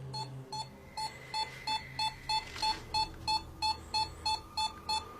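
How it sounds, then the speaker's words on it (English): A ghost-hunting meter's high electronic beeping repeats in a quick, regular rhythm, steady and close, over faint background hum, with no one speaking. "the meter beeps frantically in one certain spot"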